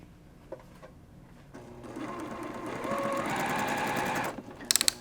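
Sewing machine stitching the center pinwheel of a quilt block, starting softly and then running steadily at moderate loudness for a few seconds before stopping, with a few sharp clicks at the end.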